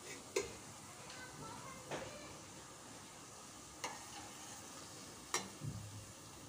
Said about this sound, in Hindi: देखिए जलेबी तल के रेडी हो चुकी है लगभग